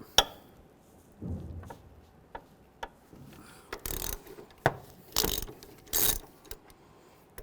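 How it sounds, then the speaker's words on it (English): A ratchet wrench with a 16mm socket works loose the engine mount bolts on a 1998–2010 Volkswagen Beetle, giving sparse clicking ratchet bursts and metallic clanks, close and moderately loud against a quiet garage background. "Now using a 16mm socket, we're going to take these two bolts out, one on each side of the mount."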